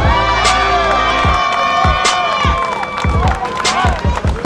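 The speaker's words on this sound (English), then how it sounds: "give them a round of applause" A crowd claps and cheers loudly throughout, with shouts and whoops rising over the steady applause in a large room.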